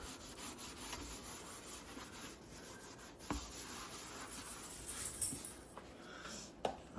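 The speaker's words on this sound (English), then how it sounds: "Scrub it all over." Cleaning paste being scrubbed across oven glass, a steady close-up rubbing and swishing texture running throughout with a couple of sharper knocks, no talking.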